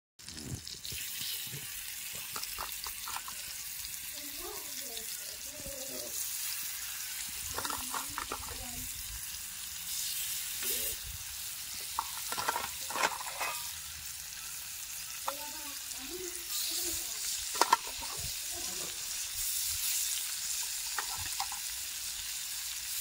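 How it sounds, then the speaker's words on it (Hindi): Chicken pieces frying on a clay roof tile give a steady, close sizzling hiss that runs throughout, with occasional soft scrapes and brief clicks from stirring. "हा जा चिकन उरला ना, आता फ्राय करून घेतोय सगळं."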